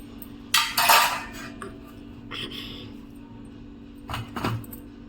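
Ground chili powder emptied from a container into a parat, a large metal plate, giving a burst of metallic scraping and clinking, a quieter clatter midway, then a few more clanks near the end.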